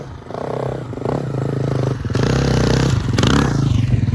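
Hard enduro motorcycle ridden on its back wheel in a sustained wheelie, engine droning loud and steady with rising revs and clattering mechanical noise close by, no talk.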